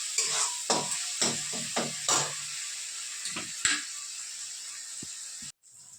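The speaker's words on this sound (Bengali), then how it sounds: "এইদিকে পেঁয়াজটাও ভালো মতন ভাজা ভাজা হয়ে যাচ্ছে, গোল্ডেন কালারের হয়ে গেছে" Onions frying with tomatoes in a pan, a series of sizzling hisses as the mixture is stirred, several rhythmic strokes then quieter frying, ending in an abrupt cut; no speech.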